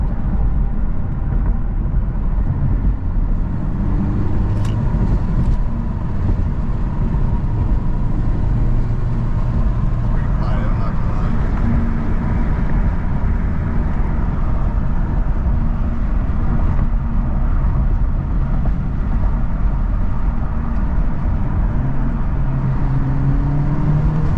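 Turbocharged engine of a 2025 Honda Civic Type R FL5 heard from inside the cabin, a steady low droning hum with constant loudness throughout, no speech over it.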